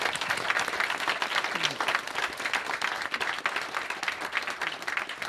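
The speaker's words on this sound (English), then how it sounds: "I'd like to give him a round of applause," A hall audience applauds at a film premiere in Leicester, a dense, steady burst of clapping that stays loud throughout, with a faint murmur of crowd beneath it.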